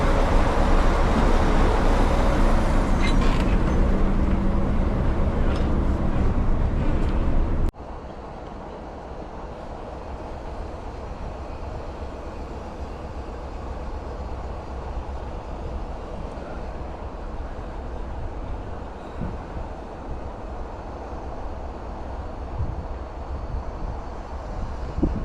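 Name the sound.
Class 46 diesel locomotive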